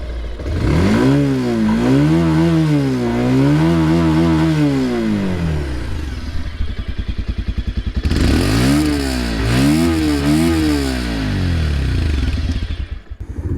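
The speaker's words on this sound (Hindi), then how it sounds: "अब एक काम करते हैं, इसका एग्जॉस्ट नोट सुन लेते हैं" A Bajaj Pulsar 180F BS6 motorcycle engine revs loudly up and down in repeated swells, drops to a rough idle for a moment, then revs hard again, close by.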